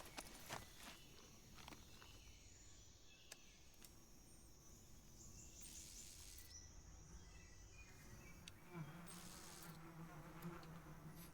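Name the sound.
bees buzzing in Metal Gear Solid 3 video game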